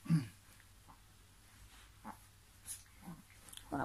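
A small Griffon puppy and a chihuahua let out faint, scattered whimpers and snorts, short quiet bursts separated by near silence in a calm room.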